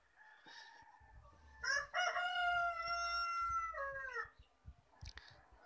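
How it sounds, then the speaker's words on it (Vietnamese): A rooster crows once in a quiet highland village at early morning, a clear, fairly close, drawn-out call, followed by a few short clucks and soft background sounds. "Sáng sớm dậy thì chỉ nghe thấy tiếng gà gáy thôi."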